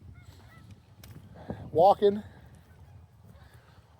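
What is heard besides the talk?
geese honking at a frozen lake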